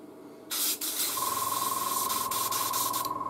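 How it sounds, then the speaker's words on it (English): Airbrush spraying primer onto a Predator figure model: a close, steady hiss of air and paint that starts abruptly, briefly dips, then continues with a faint pulsing flutter and a thin whine. "let's connect your airbrush to the hose."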